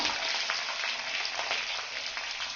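Dried red chillies and green chillies frying in hot oil in a pan, giving a steady, dense sizzle with soft crackles throughout and no voices.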